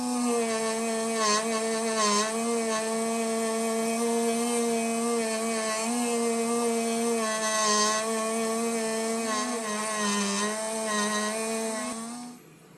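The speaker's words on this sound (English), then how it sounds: "I'm just going to polish them quickly using Mothers and my Dremel again" A Dremel rotary tool runs continuously at high speed, its whine holding a steady tone while it polishes classic Klein Tools electrician's knives with Mothers polish, then winds down abruptly at the end.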